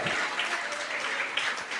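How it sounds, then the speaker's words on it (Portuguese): Brief burst of applause from a church congregation clapping for the Lord during a sermon, a steady mass of hand claps across the short span. "Você pode aplaudir ao Senhor?"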